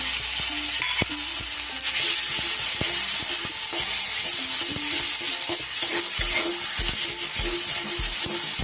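Ground ginger and green chilli paste hit hot oil in a pan for a Bengali fish curry, giving a steady close sizzle and hiss broken by scraping stirs and occasional soft knocks of a spoon.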